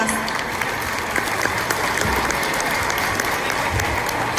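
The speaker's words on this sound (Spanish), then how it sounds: "Fuertes los aplausos para ellos." An audience gives loud, dense, sustained applause for a youth academy performance at a music show, a continuous crowd clapping roar that stays even from start to finish.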